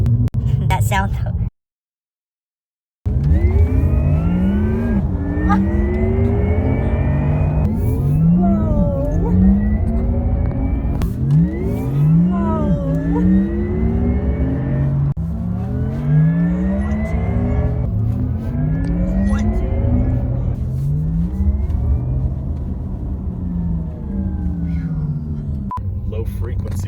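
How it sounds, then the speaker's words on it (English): A Porsche Taycan Turbo electric sports car drives along, its real electric motor giving off a loud, near, spaceship-like whine that sweeps up and down repeatedly with acceleration, over low road rumble and a brief cut to silence near the start. "Low frequency sound, so it gives you feedback as to what the car is doing. That is actually real electric motor sound."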